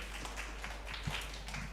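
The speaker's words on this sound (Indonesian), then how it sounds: "Tepuk tangan dong buat Tuhan Yesus." A church congregation claps for Jesus, producing a brief patter of quiet hand claps heard from a distance.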